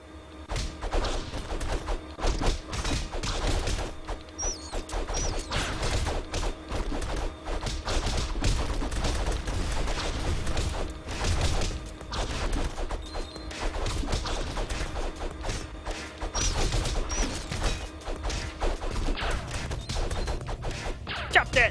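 An enemy boss fires away in the Castle Crashers video game, a busy stream of repeated shots, thuds and crashes rattling on in uneven bursts without letup.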